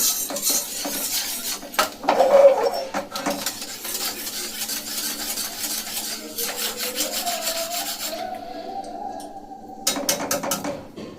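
Milk being mixed into a milk cake mixture in a bowl with a spoon, giving close rubbing and scraping strokes against the bowl, uneven in rhythm and moderately loud, with no talk.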